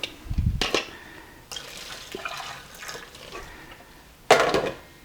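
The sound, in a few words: water being drained from cooked broccoli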